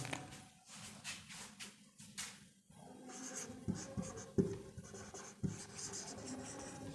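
Pen or marker scratching across a board or paper during a biology lecture, a steady stream of short strokes with scattered taps, fairly close and moderately quiet, with no talking.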